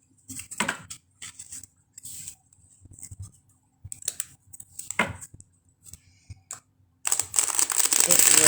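Tarot cards are riffle shuffled up close, with quick bursts of flapping and crisp fluttering separated by pauses, ending in a sustained rapid riffle.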